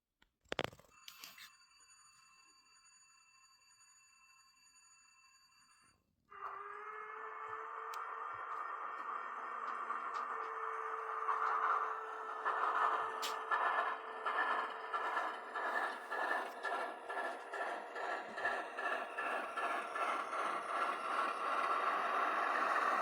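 A model locomotive powers up: a brief tone and clicks, then after a pause a diesel-like engine hum kicks in and settles into a steady rhythmic chug.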